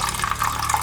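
Water runs from the small tap of a pump-free gravity water filter in an off-grid setup, a steady close trickle that continues without a break.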